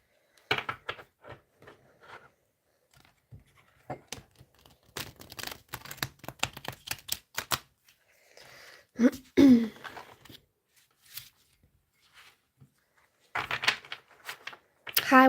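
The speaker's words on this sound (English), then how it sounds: "I'm just going to have one more shuffle." A deck of tarot cards being shuffled by hand, quiet bursts of riffling and slapping cards in several bouts with pauses between, close and soft, with a brief voice in the middle.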